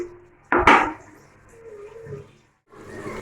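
A metal lid lifted off a pot of cooked dal, giving one sharp clattering clank followed by a brief scrape, then quiet kitchen room tone.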